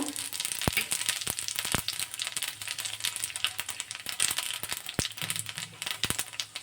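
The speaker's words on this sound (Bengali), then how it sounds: "লঙ্কাগুলো সরিয়ে রেখে আমি পাঁচফোড়ন দেব।" Panch phoron whole spices crackling and sizzling in hot oil after dried red chillies, for a tomato and jujube chutney, with sharp irregular pops over a steady close sizzle.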